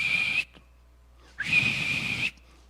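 A police officer's whistle is blown in two long, loud, steady shrill blasts on a city street near Big Ben in London, with a short pause between them.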